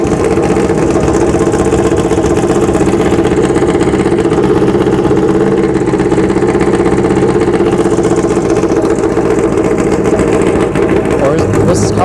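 At a drag strip during a test-and-tune session, a roughly 1970s Kawasaki motorcycle engine holds a steady, loud, unbroken droning idle up close.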